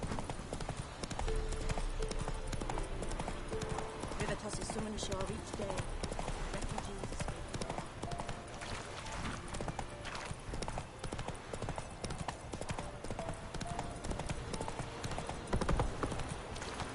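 Geralt's horse Roach in The Witcher 3 clip-clops along in a steady, busy run of hoofbeats that lasts throughout, with a player talking over it.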